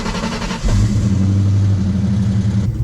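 A Ford Mustang SVT Cobra cranks and catches in a loud burst, then settles into a strong, close, rumbling run with a slight rev, alone with no voices.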